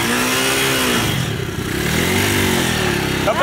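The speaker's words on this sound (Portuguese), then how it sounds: "Ó, a moto vai sair." A motorcycle engine revs loudly and steadily up close, its pitch rising and falling as it accelerates, with a clatter at the end.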